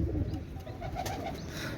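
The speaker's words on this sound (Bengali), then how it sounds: "এক জোড়া রয়্যাল টেডি কবুতর" A pair of Royal Teddy pigeons coo close by in soft, low, repeated calls.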